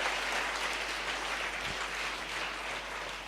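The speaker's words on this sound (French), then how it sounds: "Acclame très fort pour Jésus." A church congregation claps together for Jesus, a dense, sustained round of applause with a steady roar of many hands throughout, no voices over it.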